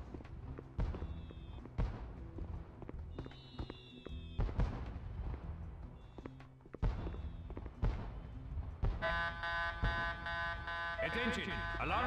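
An intruder alarm system goes off in Mission: Impossible – Operation Surma on PS2, a steady electronic tone entering late over busy game sounds with sharp impacts and bursts.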